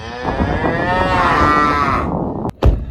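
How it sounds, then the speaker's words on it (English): A cow gives a loud, drawn-out moo lasting about two seconds, heard up close and followed by a couple of brief knocks. "I just see a cow."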